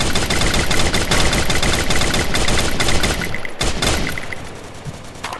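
Gunfire in the video game Free Fire: loud, dense automatic bursts rattle almost without pause, a brief gap before a final stretch of shots that thins out and softens toward the end.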